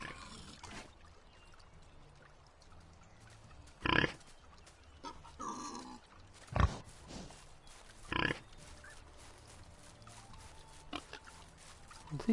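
A pig in Medieval Dynasty, a medieval farming game, grunts in a few sharp, close bursts over a quiet, low background.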